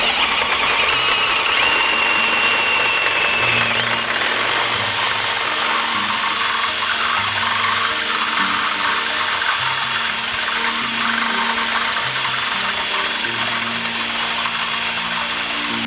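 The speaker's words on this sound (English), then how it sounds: "Same 3/8 bit, we can just drill straight through." Power drill with a 3/8 bit boring straight through a wooden post, a loud, close, continuous whine with shifting pitch as the motor loads and eases, no voices over it.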